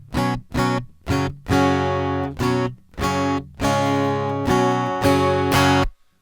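Strummed acoustic guitar chords ring out in a steady rhythm, loud and close, each chord cut short before the next, ending after about six seconds.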